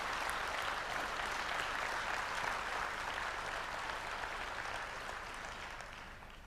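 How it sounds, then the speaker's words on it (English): Audience applause for an honoree, a dense, steady wash of many hands clapping that fades slightly toward the end, with no voices over it. "Let's give him a big round of applause"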